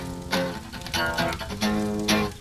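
An in-game guitar in DayZ plays several strummed chords and notes at an uneven pace, fairly close, with no voices over them.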